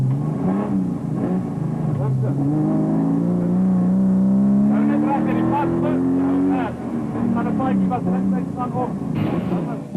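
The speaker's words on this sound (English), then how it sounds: "On board with Hendrik Reineke and Jaco van Tonda in the Toyota Land Cruiser" The engine of a Toyota Land Cruiser rally car, recorded on board during the Lichtenburg 200 off-road race in 2004, drones and revs steadily beneath continuous commentary.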